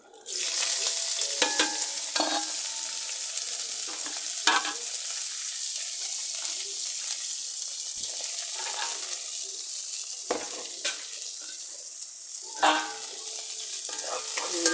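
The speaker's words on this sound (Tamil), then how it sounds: "வெந்தயத்தை போட்டாச்சு அதே பச்சை மிளகா வெங்காயத்தை போட்டுக்கலாம்" Green chillies and onion frying in oil with fenugreek seeds for a greens chickpea sundal, a bright steady sizzle rising loudly and holding, with scraping stirs and clinks recurring close by.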